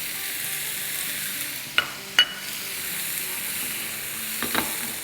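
Cucumber cut into long strips fries in an oil tempering, a steady close sizzle broken by a few sharp clicks and clatters, with no one speaking.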